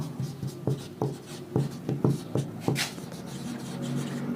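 Writing on a board during a physics lecture: a steady series of close, sharp taps and scratchy strokes, each mark distinct, over a constant room hum.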